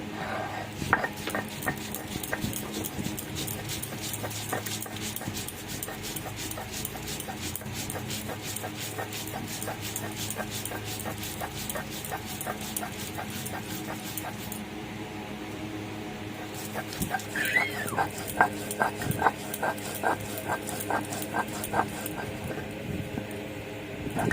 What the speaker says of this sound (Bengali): আমি এখন মশলাটা বেটে নেব